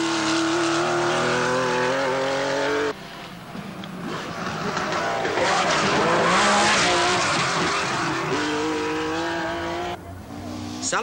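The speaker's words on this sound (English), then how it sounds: "As does Jean-Luc Terrier in the rasping air-cooled Porsche." An air-cooled Porsche rally car at the 1982 Portugal Rally rasps past, its engine note rising and falling through gear changes, loud and close amid general outdoor noise.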